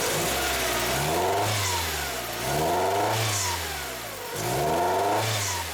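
A Hyundai Elantra engine with a restricted exhaust is revved three times in steady swells, each rise in RPM climbing and falling back toward idle, loud and close with no talk.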